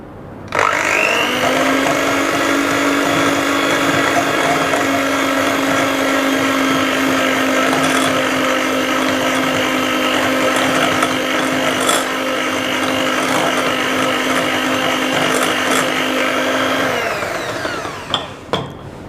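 An electric mixer runs continuously for about seventeen seconds while mixing whipped butter with cocoa powder for a classic chocolate cake. The motor whirs loudly and steadily up close, then cuts off, leaving a few faint knocks.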